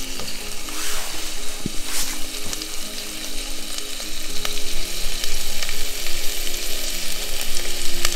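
Meat frying in a little oil in a pan at a snowy winter campsite at -9°C, a loud, close, continuous sizzle with occasional scraping and clinking as the pieces are stirred.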